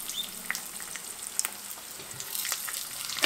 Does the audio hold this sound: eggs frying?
yes